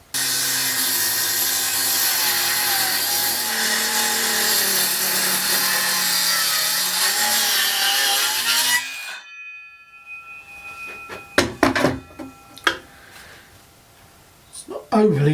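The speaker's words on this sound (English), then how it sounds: "Let's try cutting some timber," Parkside cordless circular saw cutting timber gives a loud, steady, high-pitched whine for about nine seconds, then stops abruptly, followed by a few scattered clunks and knocks.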